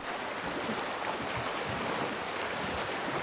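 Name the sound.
boat passing a waterfall, rushing water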